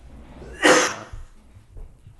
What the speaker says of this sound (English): That was your cough.